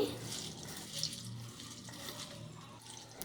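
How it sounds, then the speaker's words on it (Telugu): Water poured over flattened rice (poha) in a strainer, a continuous soft running and draining hiss at low volume throughout. "ఇప్పుడు వాటర్ పోసి స్ట్రెయిన్ చేసుకోవాలండి"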